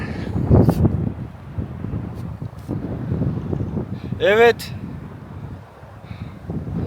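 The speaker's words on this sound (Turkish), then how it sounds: "rüzgar çok" Gusty wind roars and buffets the microphone at a mountain dam overlook while people talk nearby; a short high whistling sound cuts through midway.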